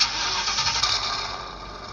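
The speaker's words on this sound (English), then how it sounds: "even a Mustang startup sound when the watch boots" A brief Ford Mustang car engine startup roar played by a smartwatch at boot, a burst of rumbling cranking and revving that settles slightly, heard alone and fairly loud.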